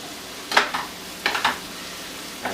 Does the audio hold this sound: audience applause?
no